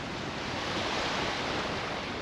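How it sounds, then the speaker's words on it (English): Ocean surf rolls onto a golden-sand beach at Las Terrenas on the north coast of the Dominican Republic, a loud, steady wash of broadband noise with wind buffeting the microphone and no voices. "The beaches here in Las Terrenas are beautiful."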